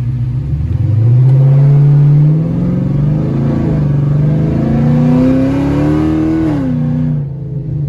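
A 1200-horsepower LS-swapped Hellcat with a supercharger rumbles and revs while driving, its deep engine note climbing loudly and steadily before dropping off near the end.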